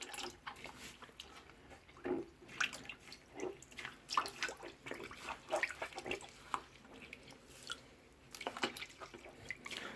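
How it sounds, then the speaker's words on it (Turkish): A dirty aquarium filter sponge is rinsed and squeezed in water, giving irregular splashes, drips and sloshing bursts close by at a low level, with no talk. "Bakın şimdi bunu da yıkayacağız arkadaşlar"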